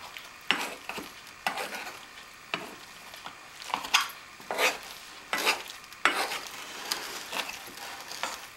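Mashed potatoes are worked with added milk, producing repeated wet squelching strokes and scraping of a masher or spoon against the pot in an uneven rhythm, close and moderately loud.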